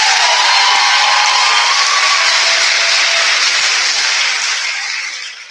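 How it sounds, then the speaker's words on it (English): Sustained loud applause from an audience at a State Farm awards assembly, dense steady clapping with scattered cheers that gradually fades toward the end. "let's give them a big round of applause"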